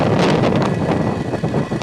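A SpaceX Falcon 9 rocket carrying Starlink satellites lifts off in California with a loud, rough roar, heavily buffeted by wind gusting across the microphone.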